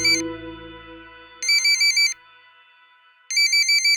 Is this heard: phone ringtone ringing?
yes